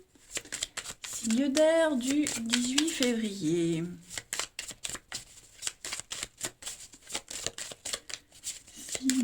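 Cards are shuffled and handled for a card reading, giving rapid papery riffles and flicks that continue in short bursts, with someone speaking over the first part.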